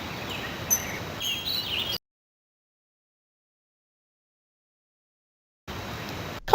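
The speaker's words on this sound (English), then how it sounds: "In Zelda's Adventure, most of the sound you hear are like birds," Ambient birds chirping in the CD-i game Zelda's Adventure, faint twittering calls over a soft outdoor bed, broken by a long stretch of silence before the ambience resumes.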